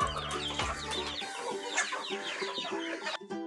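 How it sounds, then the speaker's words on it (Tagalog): Free-range chickens clucking and squabbling while fighting over food, a busy close chorus of overlapping clucks and squawks with a low rumble at the start. "Nag-aagawan ng pagkain yung ating mga chickens."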